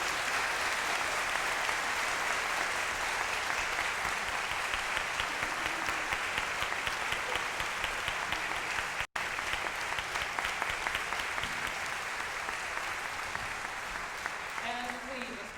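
Audience applause for singers at an evening performance, a dense, steady crowd clapping that fills the whole stretch with a brief dropout midway.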